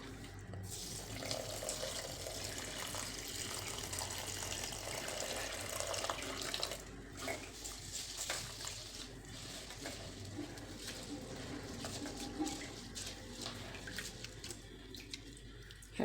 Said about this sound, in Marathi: हे धुवून घ्यायचे स्वच्छ तीन चार वेळा